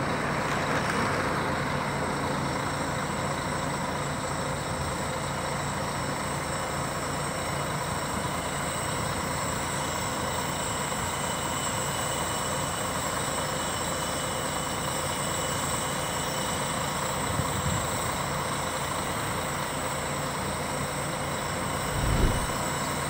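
A Paradiso New G7 1600 LD interstate sleeper bus idles or moves slowly with a steady low engine rumble and broadband road-station noise throughout, swelling slightly near the end, with no talking.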